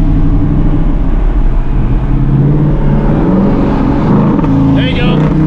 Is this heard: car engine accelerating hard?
yes